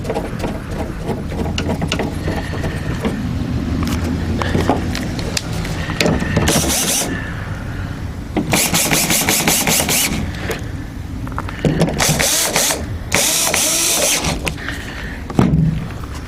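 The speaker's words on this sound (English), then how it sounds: "let's get it all tightened up" Ratchet clicks and mechanical rattling as bolts on a 2014–2018 GMC Sierra / Chevrolet Silverado power tailgate lock are tightened, close and steady, with bursts of brighter clattering and scraping through the stretch.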